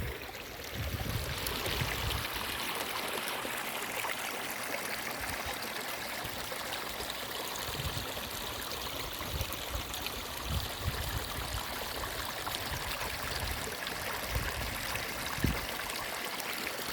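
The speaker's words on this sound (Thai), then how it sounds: "เบิ่งรู้น้ำไหลรัวๆ" Continuous rushing of fast-flowing floodwater, a steady broad hiss with occasional gurgles, close by and with no talking.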